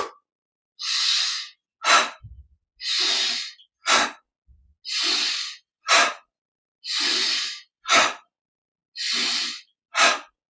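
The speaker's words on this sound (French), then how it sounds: "inspire au centre, expire dans ce mouvement un peu sec" Sharp, forceful exhaled breaths during a guided exercise, alternating with longer drawn-in breaths in a steady repeating rhythm, about five inhale–exhale pairs, close and loud with silence between them.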